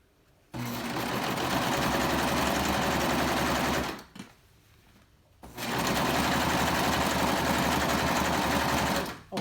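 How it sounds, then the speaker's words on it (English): A serger sewing machine gathering fabric runs in two loud, steady bursts of rapid mechanical whirring, separated by a brief pause, close up and with no talk. "The serger is doing all the work for me."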